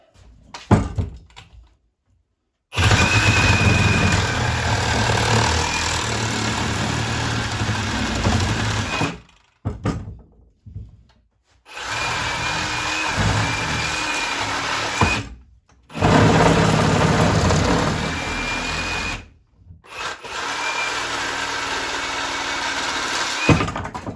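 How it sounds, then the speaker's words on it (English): A Sawzall reciprocating saw cuts through a thick wooden butcher block tabletop. It runs in four long, loud, buzzing bursts, each several seconds long, with short quiet pauses between them and no voices. "So here we go with the Sawzall again."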